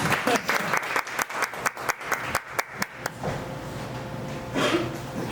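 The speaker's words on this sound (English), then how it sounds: "A round of applause for the Velvet Hippo." Clapping at a keynote talk: a few distinct, spaced hand claps ring out before fading into a quieter room with murmuring voices.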